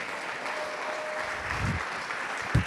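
Applause rises from a church congregation during a Spanish-language sermon, a steady wash of clapping with a couple of low thumps near the end.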